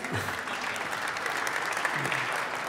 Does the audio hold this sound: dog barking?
no